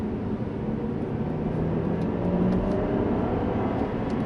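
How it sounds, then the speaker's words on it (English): A 2010 Saab 9-5 Aero Turbo6 XWD accelerates in second gear, its engine giving a steady low drone heard from inside the cabin as the revs climb gently. "And that was some acceleration there"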